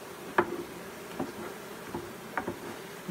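Honey bees from a swarm being brushed into a Slovenian AŽ hive, heard as faint scattered ticks and soft taps under a low background hum, with no voices.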